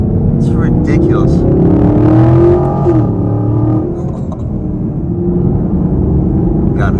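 A Chevy Camaro LT1 engine revs and pulls hard through the gears on a twisty road test drive, a loud continuous rumble with rising and falling pitch as it shifts, with someone talking over it.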